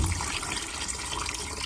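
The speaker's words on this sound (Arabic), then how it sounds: "أقوم بغسل الليمون الحامض" Lemons are washed in water, giving a steady close splashing and trickling wash of liquid with small bubbly gurgles throughout, with no talking.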